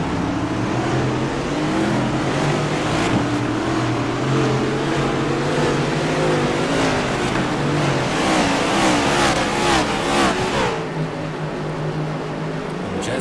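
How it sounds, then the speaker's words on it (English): A pack of stock cars on a virtual Mid-Ohio track roll past for the green flag, a loud continuous engine roar with overlapping revving drones and pass-bys, no talk. "Take a look as the cars roll by for the green flag"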